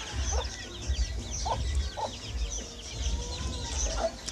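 Domestic hen clucks in short, repeated bursts at a close distance, about half a dozen calls spaced unevenly over a low background rumble.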